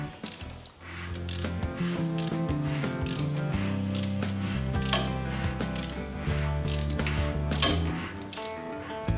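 A hand ratchet clicks rapidly in repeated bursts while turning the engine of a 1931 Chevy rat rod back to its timing mark, close and crisp over a steady tonal background.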